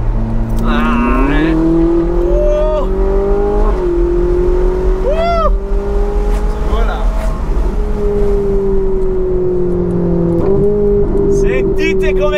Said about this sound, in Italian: Fammi sentire sto scarico aperto.